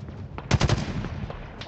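Gunfire in the Halo Infinite video game: a quick burst of four or five sharp shots, fairly close, followed by a few scattered fainter pops over a low background hum.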